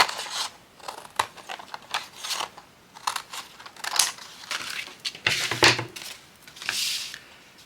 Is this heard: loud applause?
no